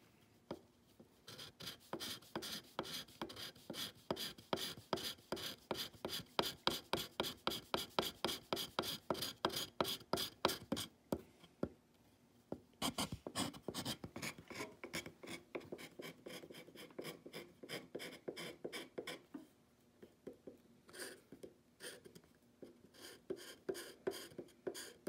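A hand scraper works a metal part of a swivel breech rifle kit to fit, in rapid rhythmic rasping strokes, close and fairly loud, with a brief pause midway before the strokes resume more irregularly.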